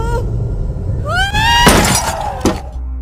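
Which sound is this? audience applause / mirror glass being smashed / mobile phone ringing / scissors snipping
mirror glass being smashed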